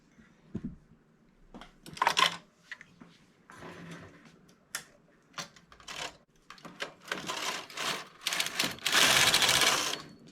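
Carriage of a domestic knitting machine sliding across the needle bed in bursts, rattling and clacking passes that build to a long loud sweep near the end, with quieter pauses between.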